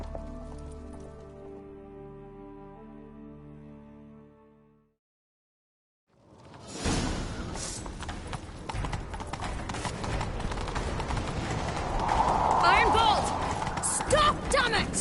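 Horse hooves gallop in a fast, loud clip-clop rhythm in a video game, starting after a stretch of musical tones and a short silence, then continuing busily amid other game noise.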